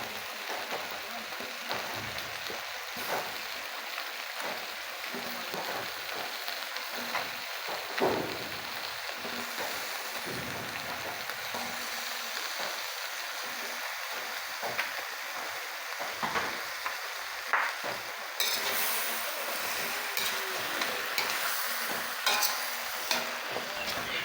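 Sliced papaya sautés in a pan for chicken tinola, producing a continuous hiss and sizzle broken by scraping and stirring noises. The hiss grows louder near the end, and a voice talks faintly underneath at times.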